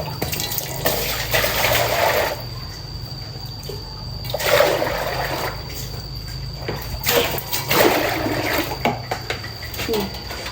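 Vegetables picked from a home garden being washed under a running tap, with splashing bursts of water as the produce is rinsed, alternating with quieter moments, close by.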